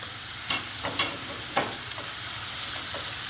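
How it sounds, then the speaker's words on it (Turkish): Mushrooms and peppers fry in a pan under a quiet, steady sizzle, punctuated by a few distinct spoon knocks and stirring scrapes; nobody speaks. "Şimdi biberlerini ilave ediyorum. Ve karıştırmaya devam ediyorum."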